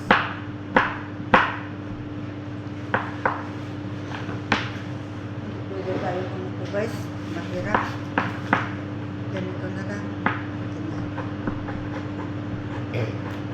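A knife cuts ingredients during cooking, making irregular, sharp chopping thuds that are louder at first and then sparser, over a steady low hum with voices talking in the background.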